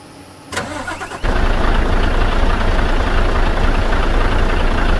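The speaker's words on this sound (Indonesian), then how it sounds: "Kita dengarkan suara start engine-nya." A Mercedes-Benz OH1626 bus engine starting in Bus Simulator Indonesia: a brief starter whir, then the engine catches and settles into a loud, steady diesel idle that runs on evenly.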